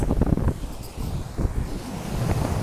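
Strong wind gusts near the water's edge, with heavy microphone buffeting and a roaring, surging rush that swells and dips, loud and close throughout.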